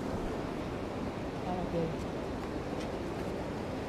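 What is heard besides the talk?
rushing river water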